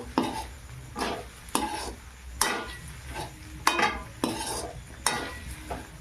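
Soaked flattened rice gets stirred into a pilaf in a pan, giving about eight rhythmic scraping strokes of a spatula, each a short rasp over a faint background sizzle.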